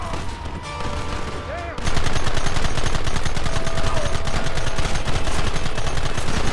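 Gunfire in the Red Dead Redemption video game while shooting at targets, a rapid relentless stream of shots that suddenly grows louder and keeps going, with voices mixed in.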